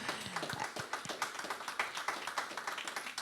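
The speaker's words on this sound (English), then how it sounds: "We've got a few rounds of applause." An audience at a sports betting integrity conference claps in a dense, steady round of applause with crisp individual hand claps throughout, fairly close and continuous for the whole stretch.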